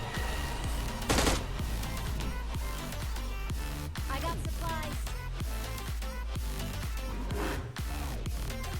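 Gunfire in the mobile shooter PUBG Lite, including an AWM sniper rifle, as a rapid run of sharp, evenly spaced shots over a dense, loud game soundtrack, with a louder burst near the start and narration in Hindi throughout.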